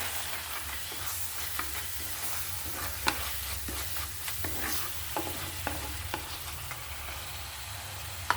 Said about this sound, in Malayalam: നല്ലോണം ഇളക്കി കൊടുക്കാവേ.